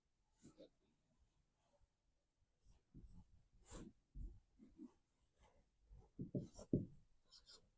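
A teacher writes a formula on a board during a class 10 physics lecture on refraction of light. Faint, irregular scratching strokes come in short clusters, growing denser and louder toward the end.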